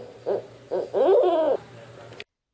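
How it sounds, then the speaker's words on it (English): A barred owl in a Florida wildlife refuge gives a series of hoots, two short calls followed by a longer rising-and-falling hoot, clear and fairly close against a quiet outdoor background. "I love the sounds owls make."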